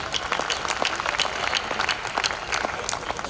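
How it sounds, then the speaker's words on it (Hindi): School audience applause, a dense, steady patter of many hands clapping in a hall, fairly close and sustained throughout, with no talking over it. "मुझे तालियां से दें"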